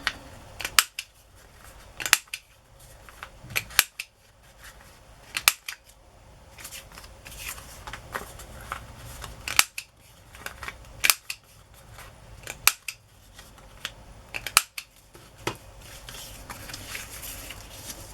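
Scissors snip the corners of paper for a decorated swan-themed journal, a series of sharp, close, isolated cuts spaced a second or two apart, with no talk over them.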